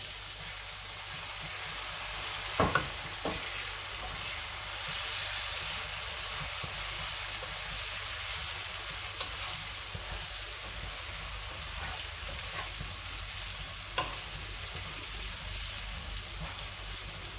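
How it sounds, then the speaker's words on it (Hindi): Three large chopped tomatoes frying in a pan on a home kitchen stove, a steady soft sizzle and hiss with a few sharp clicks from stirring, no talk. "यहाँ पर मैं टमाटरों को अच्छी तरह हिलाऊंगी और इसे मैं सॉफ्ट होने तक पका लूँगी"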